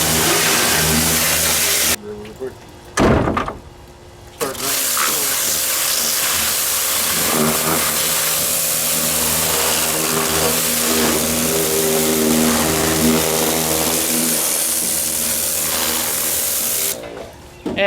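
A 1970 Pontiac GTO engine cranks, catches and runs loud and close, with a couple of stumbling restarts before settling into a sustained rumbling run with throttle blips, cutting off near the end.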